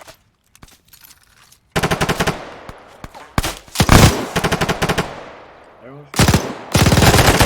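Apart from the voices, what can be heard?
gunfire in the video game ARMA 3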